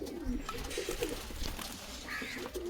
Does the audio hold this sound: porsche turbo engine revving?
no